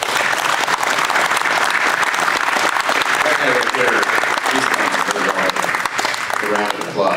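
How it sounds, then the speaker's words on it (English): Sustained audience applause at a history night event, dense and steady throughout with a voice talking over it. "Let's give a round of applause to these guys."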